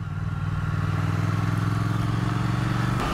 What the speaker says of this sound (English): it's got that really nice parallel twin burble